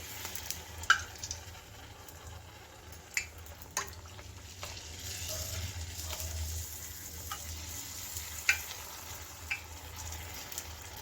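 Golgappa puris frying one at a time in hot oil: a steady low sizzle with scattered crackles and pops, fairly quiet and without speech.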